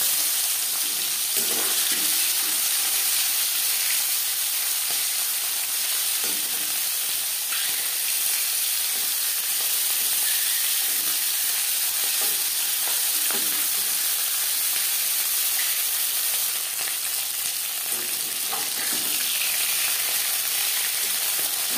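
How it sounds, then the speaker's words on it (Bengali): Marinated eel fish fries in hot refined oil, a steady even hiss of sizzling that runs unbroken and fairly loud throughout. "4 চামচ রিফাইন্ড অয়েল গরম করে নিয়েছি। এবার দিয়ে দেবো ম্যারিনেট করে রাখা বাইং মাছ।"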